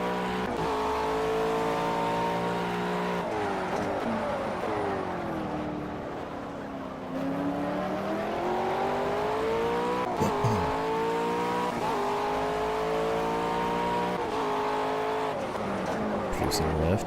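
A McLaren MP4-12C GT3 race car engine in Project CARS roars continuously, its pitch climbing through gears and dropping on downshifts, with tire squeal. Someone talks over it throughout.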